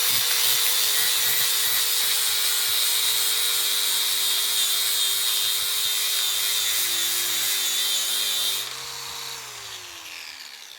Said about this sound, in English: My second brilliant idea was to use a sanding pad on an angle grinder.